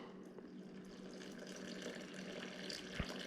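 Water pours steadily into a bowl for sourdough pizza dough, a soft continuous splashing stream, faint and close, with no talking.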